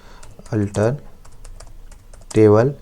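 Keystrokes on a computer keyboard while writing a MySQL command, a scattering of light clicks close by, with someone speaking briefly over them at the start and again at the end.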